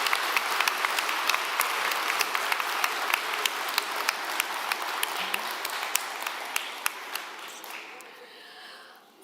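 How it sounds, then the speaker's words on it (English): A commencement crowd at an executive MBA graduation applauds a speaker, with steady, even clapping held for several seconds before it thins and dies away near the end. "Round of applause for Masamba."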